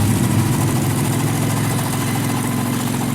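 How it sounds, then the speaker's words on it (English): A helicopter engine in the video game DayZ runs as a steady, loud, rough rumble with a rattling vibration, sounding worn and shaky, continuous throughout with no talking. "Sounds like it might fall apart at any second. My kind of chopper."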